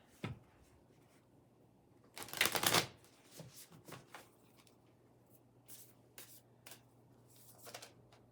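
Tarot cards being shuffled and handled, a loud riffling burst followed by soft scattered slaps and flicks of cards, close and quiet with no talk.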